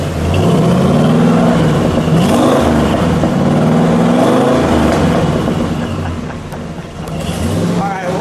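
A 1969 Dodge Charger Daytona's 440 V8 revving up close, a loud deep rumble that swells and falls through several rises, with people talking over the engine.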